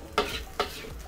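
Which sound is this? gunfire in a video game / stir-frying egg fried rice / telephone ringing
stir-frying egg fried rice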